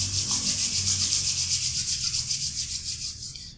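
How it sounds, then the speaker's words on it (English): Palms rubbing briskly together in a quiet yoga session, a steady close, rhythmic hiss of skin on skin that fades slightly toward the end, with no talking. "gently rub your palm together"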